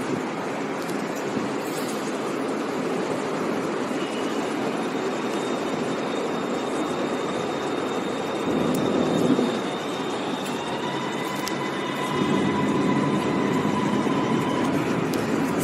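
A Bangkok MRT Blue Line train at Tha Phra station rumbles loudly and steadily, with sustained wheel squeals and whining motor tones over the constant roar.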